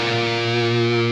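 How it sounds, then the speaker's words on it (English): An electric guitar plays through the Amped Block Letter amp plugin with delay and reverb pedals switched on, a loud sustained distorted chord ringing steadily for just over a second with no voice. "I can literally just press the foot switches and it will turn on the delay and reverb pedals."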